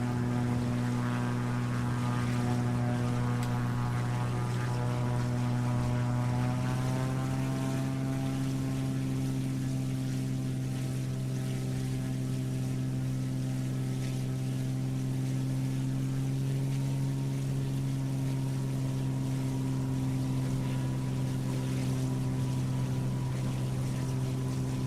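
A Piper Aero propeller aircraft engine at takeoff in Microsoft Flight Simulator, a steady droning hum whose pitch shifts and settles as power builds, continuous and fairly close throughout.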